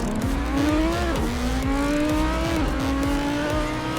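Racing cars on the Macau street circuit in a racing video game, engine note rising and falling steadily through gear shifts, with tire squeal and other cars close by, loud and continuous.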